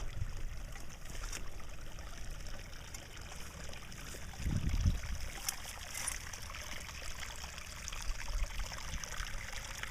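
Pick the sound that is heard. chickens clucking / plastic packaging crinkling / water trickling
water trickling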